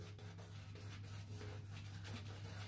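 A shaving brush works Stirling Boat Drinks shaving soap into a face lather, giving a close, steady wet rubbing and swishing with quick rhythmic strokes.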